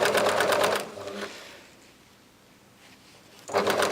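A sewing machine stitches a fabric scrunchie in two short, close bursts, one at the start and one at the end, with a quiet pause between them.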